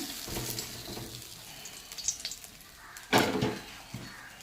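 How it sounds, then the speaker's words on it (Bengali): A fish head frying in hot oil in a home kitchen, giving a steady close sizzle with a louder burst of crackling partway through and a few faint utensil clinks. "এখন আমি মাছের মাথাটাকে ভেজে নেব"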